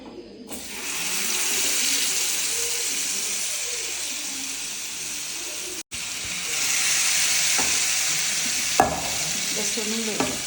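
Fish half-fries in hot oil in a pan, a steady loud sizzle that runs continuously, with occasional clinks and stirring sounds.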